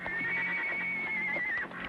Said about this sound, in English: Could be his horse.